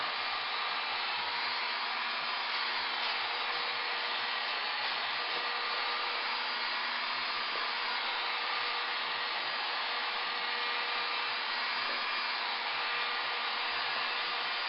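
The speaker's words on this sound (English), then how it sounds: "keep the heat gun really close to it. Keep moving all around, rolling it over." Steady, close airy whoosh of a heat gun blowing hot air onto PVC pipe being softened to make a bow, a continuous even blast with faint low bumps as the pipe is rolled and no talking.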